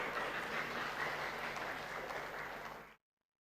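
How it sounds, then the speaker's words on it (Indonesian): An audience at a public election debate for the 2020 Tana Toraja regional race applauds in a steady, dense crowd clap that holds evenly for about three seconds and then cuts off abruptly into silence. "Kita tepuk tangan dulu."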